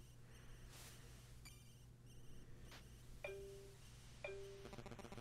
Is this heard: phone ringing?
yes